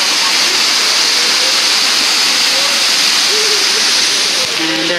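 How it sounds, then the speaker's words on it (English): A water fountain at Epcot gives a loud, steady rushing splash with outdoor crowd murmur and faint voices underneath. "here is the beautiful water fountain."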